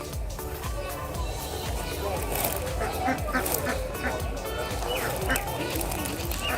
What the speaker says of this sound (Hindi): डक्स हैं, देखें खूबसूरत पैरट्स